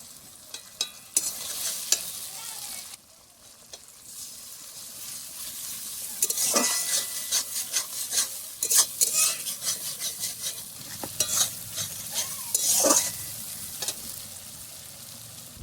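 Tomato and onion, then dried chili paste, stir-fried in a pan for a Bengali fish recipe: soft sizzling under repeated scraping strokes of a spatula against metal, with louder bursts of frying toward the end and no talk.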